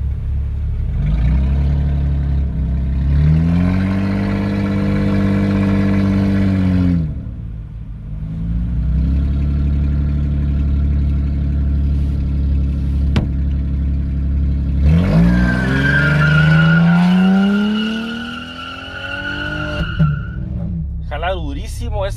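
Chevrolet Camaro race cars rev loudly nearby in sustained throttle bursts, engine pitch rising and falling, with tires squealing toward the end as the engines roar; a voice talks over the engine noise at times.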